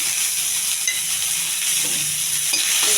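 Onions, curry leaves, green chillies and dried red chillies fry steadily in hot oil, with a continuous bright sizzle and a few scrapes of stirring close by.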